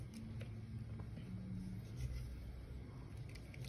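A cheap mini bladeless fan with a brushless motor and low-cost impeller runs noisily, giving a steady, even whirring hum with no talking.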